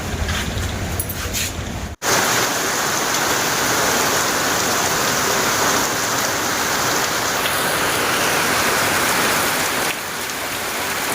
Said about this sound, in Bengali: এখন ধরে বৃষ্টি চলে আসলো